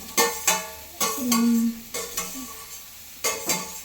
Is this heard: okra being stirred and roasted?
yes